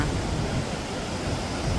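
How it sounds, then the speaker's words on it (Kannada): The Kaveri river at Mekedatu flowing forcefully through a rocky stretch, heard as a steady, dense, close rushing roar. "ನೀರು ಎಷ್ಟು ಫೋರ್ಸಬಲ್ ಆಗಿ ಹರಿತಾ ಇದೆ ಅಂತ ನೋಡಿ"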